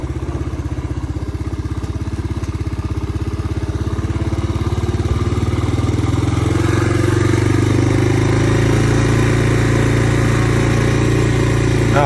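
A 1985 Honda ATC 250SX three-wheeler with a freshly cleaned carburetor idles loud and close, its steady low engine throb rising slightly and settling into an even drone, with no one talking.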